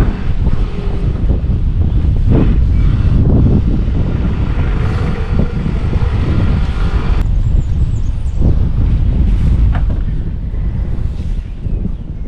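Strong wind gusts buffet the microphone high on a ham radio antenna tower, a loud continuous roar with surging blasts and no speech.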